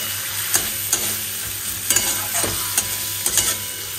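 Soaked dried peas stir-fry in a pan with a steady oily sizzle, punctuated by a series of sharp spatula scrapes and taps roughly every half second, close and fairly loud.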